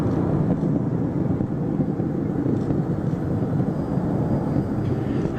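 Space Shuttle Atlantis lifts off from Kennedy Space Center on its final launch, a continuous deep, rumbling rocket roar with no pauses and no voices.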